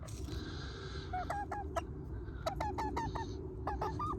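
A small bantam chick chirps in a rapid series of short, high peeps, some rising and bending, close and clear over a low background rumble.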